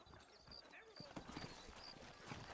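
Horse hooves clip-clop steadily on a town street in Red Dead Redemption, a quiet continuous trotting rhythm under wind and ambient noise, with voices talking faintly.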